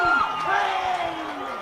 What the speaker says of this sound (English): The crowd here goes crazy as Zulo gets into a ball over the head of Cooper Goff.